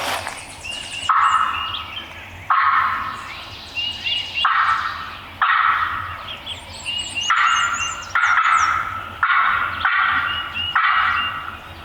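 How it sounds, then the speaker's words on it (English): A wild turkey gobbler gobbles repeatedly across a field, each rattling gobble sounding out in a steady run of about eight calls, clear and strong yet carrying a far-off quality, with no voices over it. "I kept hearing the distant one and he's just gobbling lights out over there"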